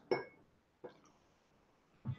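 Three faint, sharp clinks of glass spaced apart, like a heavy goblet being set down or tapped, in an otherwise quiet room.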